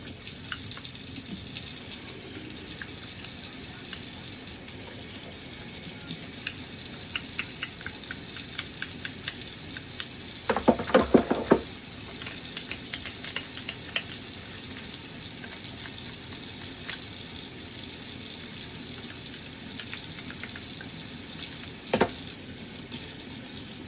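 Tap water runs steadily into a sink while a dish caked with bits of carrot is rinsed, with a few brief clatters and splashes partway through.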